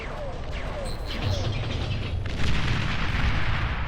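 Explosions from a flying fortress air attack in the strategy game Beyond All Reason, with deep rumbling booms rolling in the distance and a louder blast near the end.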